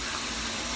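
Water runs steadily through the tresses of a curly human-hair wig, a continuous close hiss and splash with no pauses and no voices.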